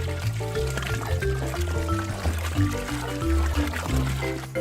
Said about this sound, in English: Step 1 is wash the potatoes.